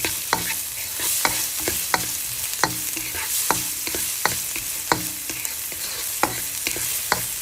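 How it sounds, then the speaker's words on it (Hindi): Vegetables for Japanese-style fried rice being stir-fried in a pan, with a steady sizzle and a regular series of sharp spatula scrapes and clanks against the pan, close and alone. "थोड़ा सा हम पका लेते हैं सब्जियों को"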